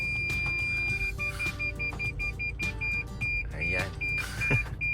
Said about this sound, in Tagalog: Nagsasound yung alarm ko kasi sobrang lapit niya.